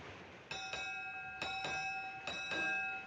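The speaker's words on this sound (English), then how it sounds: "Make 8 bells. 8 bells it is, sir." A ship's bell strikes eight bells at noon aboard a sailing vessel, the clear ringing strokes falling in paired groups, each ring bright and sustained with long decaying overtones, fairly close and alone.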